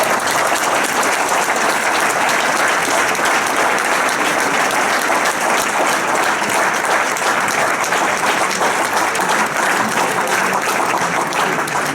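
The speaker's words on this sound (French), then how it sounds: "Et moi j'aimerais que vous les applaudissiez" Sustained crowd applause for municipal staff on a town election night in Avranches, loud dense clapping that holds steady for the whole stretch.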